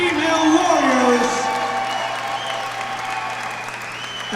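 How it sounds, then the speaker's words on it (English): Loud crowd applause and cheering at an MMA cage event for two female fighters, dense and sustained from start to finish, fading slightly toward the end, with an announcer's voice over it. "a big round of applause for both of these Rocktagon female warriors"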